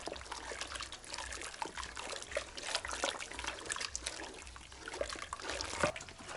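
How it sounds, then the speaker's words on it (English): Sorghum porridge mixture pours steadily into water in a cooking pot, a faint continuous trickle and splash lasting several seconds with no talking. "The mixture is ready now, that I can add to the water here."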